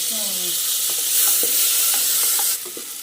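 Tomato with chilli masala sizzles in a frying pan as it is stirred, a steady close hiss with several soft scraping strokes of a spoon, easing slightly toward the end.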